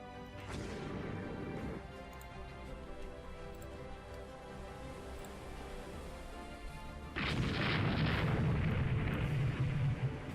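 Naval gunfire from warships in the Rule the Waves 2 game during a night action against an enemy destroyer, a sustained rumbling barrage of blasts that swells into a louder, denser volley near the end.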